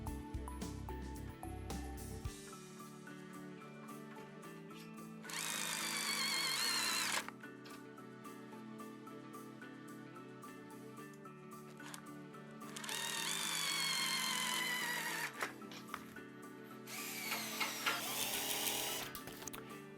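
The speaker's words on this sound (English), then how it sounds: "So you line them up and screw them into here like this." A shower enclosure side frame is screwed together with a powered screwdriver, giving several whirring bursts of a few seconds each, separated by quieter pauses and small handling clicks, fairly close and with no talking.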